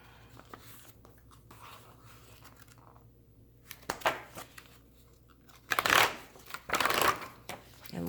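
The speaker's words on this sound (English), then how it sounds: "now let me grab more paper out of here" Scrapbook paper is pulled out and handled while a Happy Planner catch-all is being set up, giving dry rustling and crinkling bursts that grow louder and denser toward the end, with no talking.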